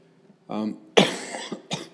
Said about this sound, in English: I have a persistent cough that just doesn't seem to go away.